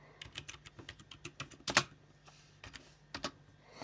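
Fast typing on a computer keyboard, a quick run of close, crisp key clicks with short pauses and a louder cluster midway, with no voices.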